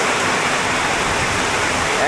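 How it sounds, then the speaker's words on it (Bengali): Torrential rain pours down in a dense, loud, unbroken roar of falling water, steady and close throughout. "দেখেন কি মুষলধারে বৃষ্টি নামছে"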